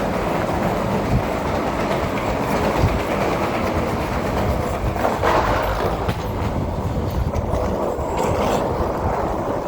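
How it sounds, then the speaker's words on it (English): Metro train in Italy riding back toward a city centre, a steady loud rumble of wheels and rail noise continuing throughout with faint clattering, no voices. "let's catch the metro back to the city centre"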